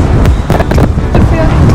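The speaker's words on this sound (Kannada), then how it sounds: "ಗಾಳಿ ಎಷ್ಟು ಜೋರಾಗಿ ಬರ್ತಾ ಇದೆ ಗೊತ್ತಾ ಇಲ್ಲಿ?" Strong wind at the Dead Sea, buffeting the microphone with loud, continuous low roaring and occasional gusty thumps.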